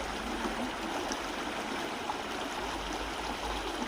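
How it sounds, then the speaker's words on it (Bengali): Water rushing down at the Farakka dam, a steady broad roar heard from a distance and evenly sustained without breaks. "দেখো কিভাবে জল নামছে"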